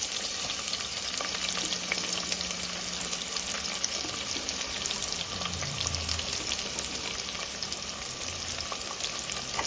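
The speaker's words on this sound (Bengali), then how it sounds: "এবার দিয়ে দেব কিছুটা পেঁয়াজ।" Onions for mutton korma fry in a hot pan with a loud, continuous, dense sizzle close up, with faint low scraping underneath and no voices.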